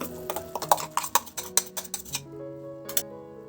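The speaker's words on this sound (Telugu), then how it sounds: "ఇప్పుడు మనం నూరుకున్న మసాలాని యాడ్ చేస్తాం." A metal spoon clinks and scrapes against a pan as ground masala paste is stirred into a Kerala coconut fish curry. The close, rhythmic taps come in a quick series, then thin out.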